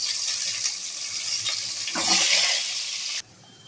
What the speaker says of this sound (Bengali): নুন হলুদ মাখানো পটলগুলো দিয়ে দেবো।